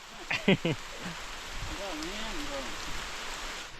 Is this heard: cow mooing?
no